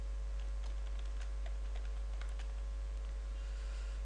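Light, irregular clicks of a computer keyboard as a short project description is typed, faint and close over a steady background hum.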